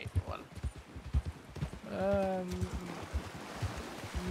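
Horse hooves clop in a steady, evenly spaced rhythm inside a role-play video game, close and distinct, with a brief tonal call rising midway through.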